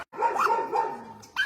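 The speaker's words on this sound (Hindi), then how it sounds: "गोद में भौंक रही है।" A small dog barks close by in a few quick, high yappy bursts, with a short pause before a final bark.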